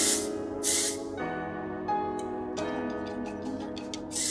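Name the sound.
dry texture hair spray being misted onto hair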